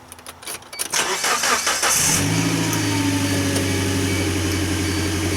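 Car engine cranking and catching after a radiator replacement, a few quiet clicks and rustles, then the starter whirs and the engine fires into a steady, close idle hum.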